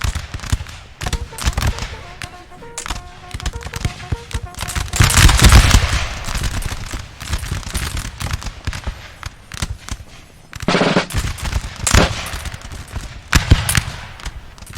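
Musket volleys crackle in a Napoleon Total War multiplayer battle with Polish Legions, dense rattling gunfire in repeated bursts with louder surges, loud and continuous over the battlefield din.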